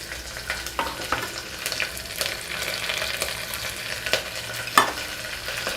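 Green chilies, carrots and peas stir-frying in a hot pan for bagara rice, a steady crackling sizzle broken by repeated spatula strokes and scrapes, close and alone without voices.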